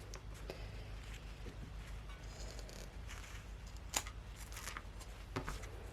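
Scissors trim off a zipper while sewing adjustable-waist shorts: a few faint, sparse snips and cuts in a quiet room, with one slightly sharper cut standing out.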